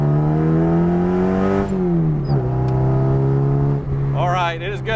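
A Ferrari accelerates just after a transmission repair, its engine droning loud and close with rising pitch, a shift partway through and a climbing whine near the end, heard from inside the car.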